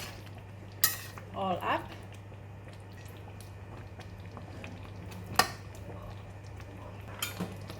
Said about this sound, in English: Just give it a stir. Make sure that curry is covered the meat